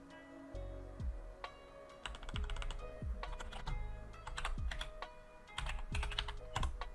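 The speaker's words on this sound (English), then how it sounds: "I'll just type it out." Typing on a computer keyboard with keystrokes in quick clustered bursts and short pauses between them, close and moderately loud with no talking.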